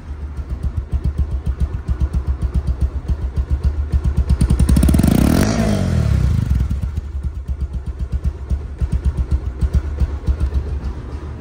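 A used Bajaj Pulsar One Disk motorcycle idles close up with a fast, even thumping beat, swelling into one brief rev midway before dropping back to its steady idle.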